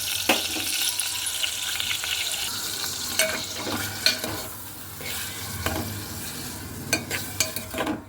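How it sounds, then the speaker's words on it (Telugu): Raw prawns are tossed with salt and turmeric in a pan for a raw mango prawn curry, giving soft wet mixing sounds with scattered sharp clicks and scrapes over a faint low hiss. "ఉప్పు పసుపు వేసాం కదండి ఈ రొయ్యలకి బాగా పట్టిలాగా ఒకసారి అయితే కలిపేసుకున్నానండి"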